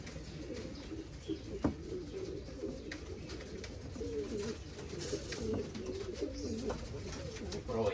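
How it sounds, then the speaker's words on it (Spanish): Female Gaditana pigeons coo steadily at bath time outdoors in the sun, a low, rolling murmur of several birds with a few sharp clicks and wing or water sounds, close and continuous. "Hoy es día de baño de paloma."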